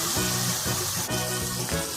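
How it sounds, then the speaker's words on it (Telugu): A tiffin mixture with turmeric and salt bubbles and sizzles in a pan, a dense continuous hiss with faint pops, close and steady throughout. "చూడండి ఫ్రెండ్స్, బాగా ఉడుకుతుంది కదా"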